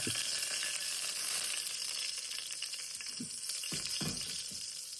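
Green chili, ginger and onion sauté in a pan as the base of a quick mutton stew, giving a soft, continuous sizzle with a few stirring clinks and scrapes and no talking.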